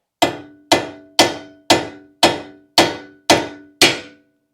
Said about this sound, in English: Maybe a few taps with the steel hammer.